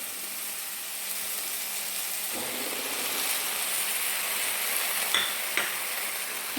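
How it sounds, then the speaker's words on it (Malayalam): Ridge gourd being stirred in a frying pan for a Kerala-style peechinga curry, a steady soft sizzle with a few brief scraping clicks of the spoon, close by and without talk. "നന്നായി ഇളക്കി കൊടുക്കാം."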